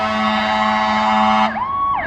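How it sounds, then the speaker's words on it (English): Loud, close wailing siren from a Mechanicstown, NY fire truck responding to an automatic fire alarm, with a steady engine drone underneath and a second overlapping siren sweep near the end. "Mechanics Down fire truck."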